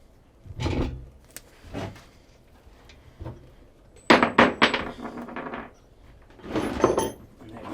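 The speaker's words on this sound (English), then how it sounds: "I'm going to slide the axle right out." Metallic clanks and scrapes as the rear axle of a Harley Evo Softail slides out of the wheel and washers drop, several separate close knocks with a rattling cluster in the middle.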